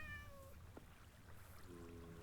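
A cat meows in a video game village, a few faint harmonic mews at the start and again near the end over a low steady background hum.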